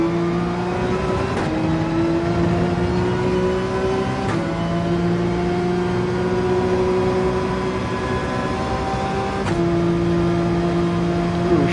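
Race car engine in Gran Turismo 7 on the Dragon Trail circuit, a loud continuous high whine climbing in pitch, broken by three sharp gear shifts that drop the tone before it rises again.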